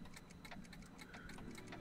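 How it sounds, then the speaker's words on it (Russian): A room full of clocks in Back to the Future: The Game ticks in a brisk, steady, overlapping rhythm, close and fairly quiet, with no voices. "Так, еще часы."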